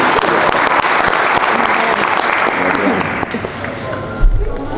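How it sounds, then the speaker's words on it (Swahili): Dense, loud applause from a crowd at a youth economic empowerment event, sustained and close, tapering slightly near the end. "Tumpigie makofi sasa hivi."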